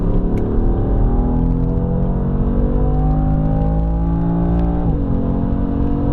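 A 2016 BMW M3 turbo engine pulls hard on the Nürburgring Nordschleife, heard from inside the car. The tone rises steadily for several seconds, briefly dips at a gear change, then climbs again, loud and continuous.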